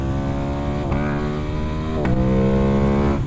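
A modified parallel-twin motorcycle with a 270-degree crank revs loudly and close, its pitch climbing steadily with brief dips at each gear change.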